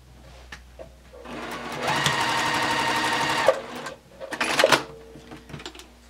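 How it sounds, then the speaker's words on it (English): A sewing machine stitches a Temperance quilt block in one steady, rapid run of close, even needle strokes lasting a couple of seconds, followed by a few softer clicks and handling noises. "let's get to the sewing machine"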